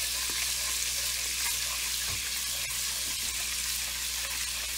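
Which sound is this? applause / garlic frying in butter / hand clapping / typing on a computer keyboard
garlic frying in butter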